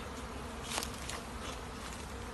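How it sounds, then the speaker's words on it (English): Honey bees from a freshly installed package swarm around a new hive fitted with a front feeder in a garden, making a dense, steady, close buzz that swells slightly now and then, with no talking. "So I just installed my bee package."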